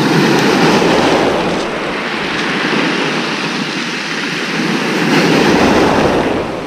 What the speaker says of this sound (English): Sea's a lot rougher than I thought it was going to be this morning.